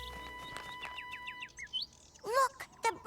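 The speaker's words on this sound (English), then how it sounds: "Look, the birds are coming back." Cartoon birds chirp in a quick series of bright, rising tweets, close and clear, followed by a character's excited voice.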